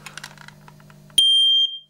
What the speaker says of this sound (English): this is the smoke alarm that is usually upstairs